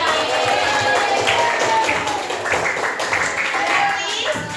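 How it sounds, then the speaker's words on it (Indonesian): Students in a classroom clap for a classmate during a science lesson, a busy crowd of hands sustained at moderate loudness with children's voices audible underneath. "tepuk tangan buat Fandra"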